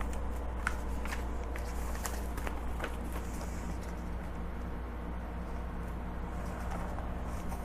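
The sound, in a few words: handling transfer tape for a decal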